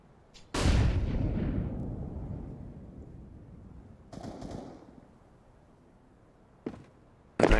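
A grenade in Counter-Strike: Global Offensive detonates with one loud, booming blast that rumbles and slowly fades. Fainter bangs follow, and a sharp shot lands near the end.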